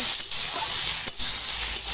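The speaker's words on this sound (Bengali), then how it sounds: "এখন সোয়াবিনটা ভাজছি" Soybean chunks frying in hot oil produce a close, constant sizzle with a few short scraping stirs breaking through.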